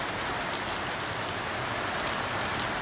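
Heavy rain pours down in a dense, unbroken roar of drops, loud and constant from start to finish with no voices.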